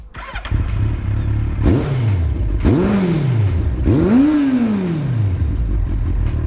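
A Kawasaki Z800E motorcycle engine with a changed exhaust line revs hard three times, each rising roar echoing and booming inside a tunnel, loud and close.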